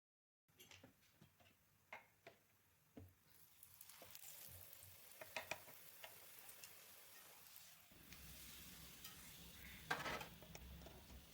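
Roti frying in hot oil in a home kitchen, a soft steady sizzle with scattered crackles and occasional clinks of utensils, growing fuller and louder partway through.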